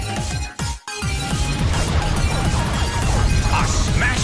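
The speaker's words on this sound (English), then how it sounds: "A smashing blow." A smashing blow attack lands in the Pokémon Battle Revolution video game, giving a loud crash and thwack with a brief drop in the middle amid dense in-game music and effects.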